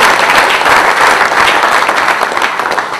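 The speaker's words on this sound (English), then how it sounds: "give them a warm round of applause" Dense, steady applause from a conference audience after a keynote, many hands clapping continuously at a loud, even level for the whole stretch.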